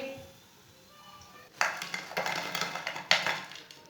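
Fried pakoras tipped from a metal strainer onto a plate, a few clinking, scraping clatters of utensils and dishware after a quiet moment, close and distinct.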